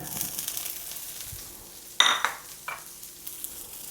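Broccoli cooking in a hot pan, a soft steady sizzle broken by a sharp clatter of a utensil and a brief burst of frying, followed by quieter stirring.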